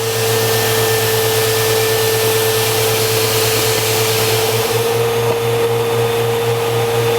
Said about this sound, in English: Then we can go ahead and start rolling and bring on the shot.